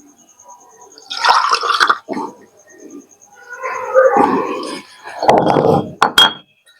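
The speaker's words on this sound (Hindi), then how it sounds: "अब इस पानी को हम भी इस बीकर में" Water from rinsing a mortar is poured into a glass beaker during preparation of arsenic oil, heard as splashing, trickling bursts with glassy clinks and knocks, close and moderately loud, coming in several separate pours.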